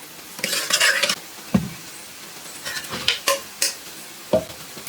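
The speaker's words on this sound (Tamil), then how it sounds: "பருப்பை சட்டிக்கு மாற்றிக்கிறேன்" Cooked lentils (dal) are moved into a cooking pan for dal palak. A spoon scrapes and clinks against metal in a few irregular bursts, with a faint sizzle between them and no talk.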